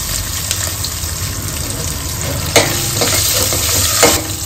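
Dried red chilies, green chilies and curry leaves hit hot oil for tamarind pulihora, crackling and sizzling loudly and steadily up close, with sharp spattering bursts as each addition goes in.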